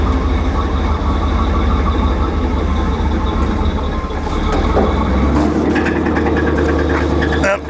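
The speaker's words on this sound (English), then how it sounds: "Oh, you can hear that motor." A power liftgate motor on a gas Isuzu NPR 16ft box truck runs with a steady low mechanical hum and drone, loud and continuous throughout, shifting in tone near the end as the motor labors.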